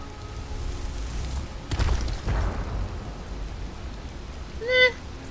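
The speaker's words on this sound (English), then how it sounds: "I think I'm just tossing a boulder at them" Heavy rumbling impact from a boulder-throwing rock spell in Skyrim, a deep booming crash with a rolling tail, followed later by a brief bright magical chime.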